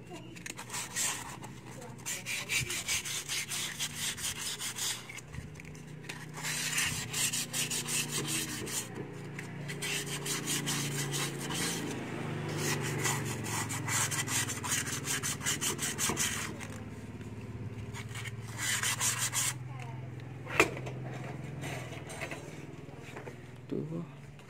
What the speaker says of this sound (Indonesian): Kita pasir ni kita jangan gosok rim dalam tu, jangan bagi licin.